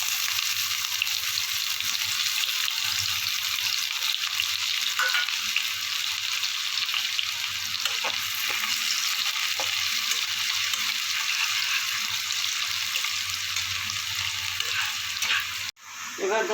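Chopped onion is added to a pan with whole cumin already fried in oil. It sizzles in a loud, steady hiss that continues throughout and stops abruptly near the end.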